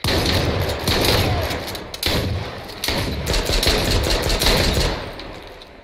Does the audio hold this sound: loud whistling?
no